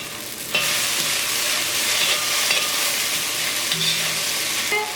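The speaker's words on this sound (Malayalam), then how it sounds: "ഇത് ഇടയ്ക്കൊന്ന് ഇളക്കിയിട്ട് കൊടുക്കണം." Okra stir-fry with coconut frying in oil in a pan, a loud continuous sizzle with occasional stirring scrapes, close up and with no talking.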